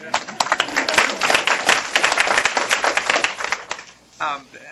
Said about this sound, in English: Welcome again. Everybody, clap.